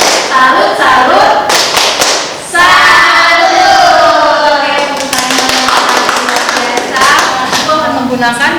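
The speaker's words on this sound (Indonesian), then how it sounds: "Kalau begitu kita tepuk salut ya. Tepuk salut." A group in a classroom or lecture performs the Indonesian 'tepuk salut' clapping chant: rhythmic, closely spaced claps mixed with voices chanting in unison, fairly loud and close throughout, with a short pause midway.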